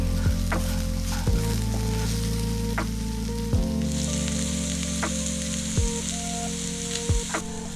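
Diced potatoes fry golden in a pan of oil for sabudana khichdi, a loud continuous sizzle broken by several sharp scrapes and knocks of a spatula stirring, with no talking.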